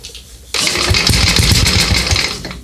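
A 1966 Sears Custom lawn tractor engine, primed with fuel in the carburetor, cranks and catches roughly, a loud close sputtering roar that bursts in suddenly and runs unevenly for about two seconds before dropping away.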